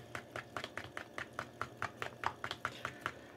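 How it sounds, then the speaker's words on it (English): Batter for fried Oreos mixed by hand without a whisk to work out lumps, a quick regular series of soft clacking taps against the bowl, about four per second, close and fairly quiet. "So we're going to mix this up. Till we get the lumps out."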